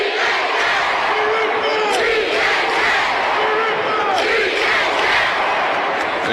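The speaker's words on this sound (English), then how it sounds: "You can hear the crowd there for the Puxico Indians" Crowd at a Class 2 boys' third-place basketball game chanting and yelling for the Puxico Indians, a loud, dense roar of voices with rhythmic shouted chant swells rising and falling throughout.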